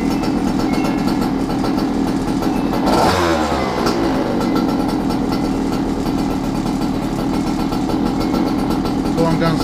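A Goped GTR scooter's small engine with a newly fitted tachometer runs loud and close. It gives a continuous buzzy drone and one sharp rev rising and falling early on, then a steady high idle.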